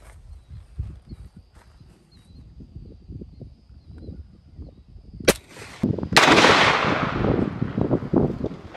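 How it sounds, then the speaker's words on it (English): A single loud .30 carbine rifle shot cracks into a stack of 300 cardboard sheets outdoors, preceded by quieter rustling and faint handling, followed by a long echoing roll that fades slowly. "so now let's see what a 30 carbine does"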